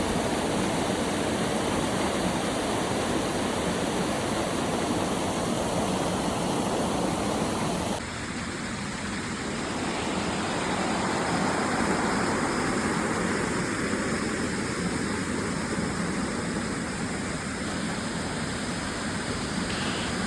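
A waterfall in a hidden spot near Trivandrum pours over wet, moss-covered rocks, a dense, steady rushing roar that fills the whole scene without a break.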